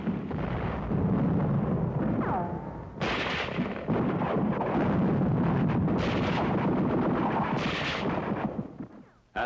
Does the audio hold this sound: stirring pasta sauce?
no